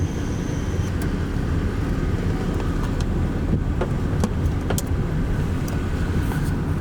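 A car drives slowly through a college parking lot, its steady engine and road rumble continuous and close throughout, with faint clicks and brief higher tones on top.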